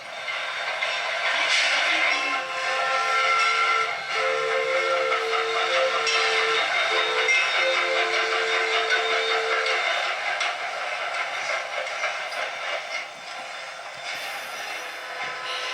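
Lahaina, Kaanapali and Pacific Railroad sugarcane steam train on Maui, a long sustained steam whistle blast over steady hissing and rolling train noise, fairly loud and continuous, easing slightly toward the end.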